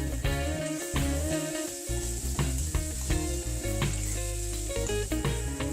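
Vegetable fried rice sizzles in a hot pan as salt is stirred through, a steady loud frying hiss with scraping stir strokes and a low hum underneath, alone without talk.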